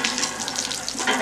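Water sprays from a pipe in a continuous rushing, splashing hiss, steady and fairly loud throughout the short moment.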